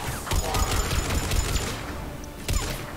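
Sustained gunfire in Mass Effect 3 during a Citadel assault, a dense clatter of shots with a louder burst near the end, amid general combat noise.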